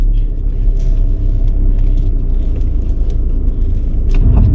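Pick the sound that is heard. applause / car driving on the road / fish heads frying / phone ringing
car driving on the road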